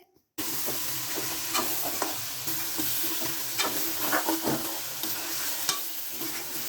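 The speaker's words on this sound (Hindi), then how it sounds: "इसको हम अच्छे से फ्राई करेंगे, ताकि हमारा चिकन अंदर तक फ्राई हो जाए अच्छे से" Chicken pieces fry for a creamy chicken karahi, giving a steady loud sizzle with scraping stirs and occasional pops, heard alone.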